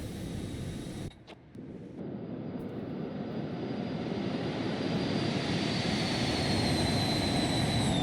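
Embraer Phenom 300 jet engines roar at takeoff in the X-Plane 12 flight simulator, a broad steady rush with a rising whine that grows louder after a brief dip, continuous and near, with no voices.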